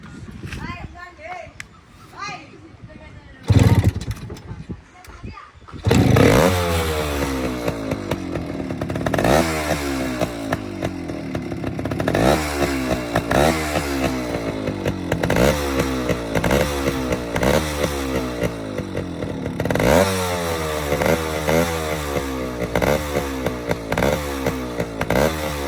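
A kick-started Kawasaki motorcycle fitted with a slightly changed muffler on an otherwise original silencer. A few seconds of talk and clatter come first, then the engine catches and runs loud and close with a rough, throbbing idle and repeated revving.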